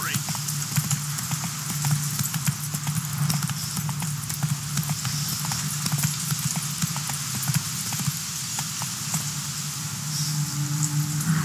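Hooves of Roach, Geralt's horse in The Witcher 3, beat in a steady galloping clip-clop that stays close and loud for the whole stretch over low game ambience.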